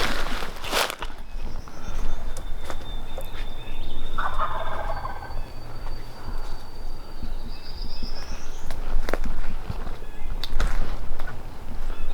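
A wild turkey gobbles once, rattling and distant, from a ridge during a Kentucky hunt, over steady outdoor wind and rustling, with scattered faint bird calls and soft footsteps.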